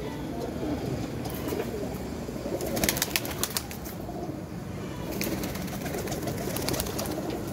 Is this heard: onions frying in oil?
no